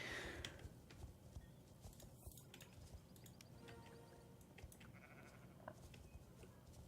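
Sheep from the Star Stable horse-riding game bleat through a busy, steady stream of game ambience and clip-clopping hooves, with one brief louder bleat standing out from the moderate background bed.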